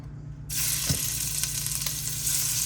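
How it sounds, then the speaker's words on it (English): Shrimp sautéing in a hot pan: a steady, close hiss of sizzling that begins abruptly and holds, with a faint clink or scrape early on and no talking. "I'm going to go ahead and saute some shrimp."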